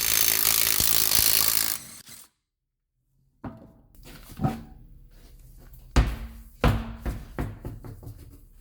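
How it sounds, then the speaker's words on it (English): A 19 mm socket on a power tool zips a wheel off a 2006 Subaru Impreza WRX, giving a loud whirring burst, then a pause and a run of metallic clanks and clatters close by. "grab a 19 mil and fire off your wheel"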